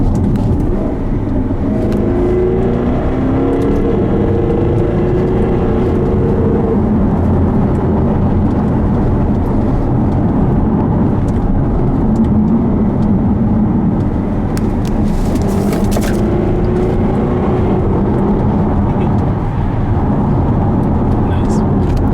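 A Jaguar XKR-S engine drones steadily under load after a downshift on a country road, with some revving swells and wind noise; someone talks over it.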